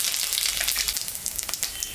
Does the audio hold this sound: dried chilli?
yes